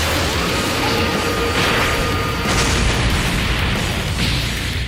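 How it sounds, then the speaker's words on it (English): A sustained explosion blast effect for a Dragon Ball fan comic battle, a loud continuous roaring rumble with dense low-end boom and crackling debris filling the whole stretch, without distinct separate bangs. "He shields his wife from the ensuing explosion, which was just enough to knock Cell to the ground."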